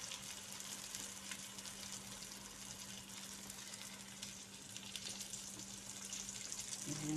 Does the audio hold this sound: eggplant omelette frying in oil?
yes